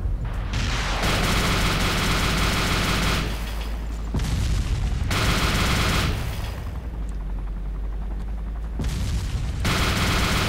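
Sustained gunfire in the military shooter Arma 2: Operation Arrowhead during multiplayer combat, loud dense bursts and booming shots in a continuous barrage with brief lulls.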